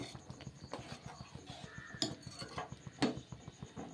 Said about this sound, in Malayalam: ചെറുതായിട്ടൊന്ന് ഇളക്കി